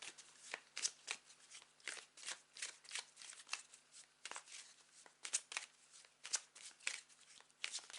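Tarot cards are shuffled by hand in repeated crisp riffling bursts with brief gaps between them, close and fairly quiet, with no voice over them.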